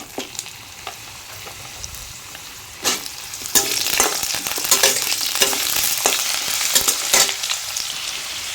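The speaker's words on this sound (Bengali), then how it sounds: "আলুটা সামান্য একটু ভাজা হতে দেবো।" Potatoes frying in a pan with black cumin seeds, a steady close sizzle that swells after a few seconds, with scraping stir strokes and clatter from a spoon and no talk.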